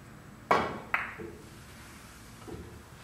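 On a three-cushion billiards table, a cue strikes the cue ball, which then clicks thinly against the yellow ball. Two sharp clacks come in quick succession, followed by faint soft knocks against the cushions in a quiet room.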